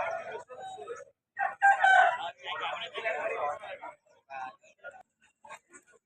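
A rooster crows at a Vijayawada fighting-rooster market, one bright drawn-out call near the middle, with people talking throughout.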